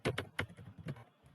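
Typing on a computer keyboard while writing code, a quick run of sharp, close key clicks spaced unevenly, fading into lighter taps.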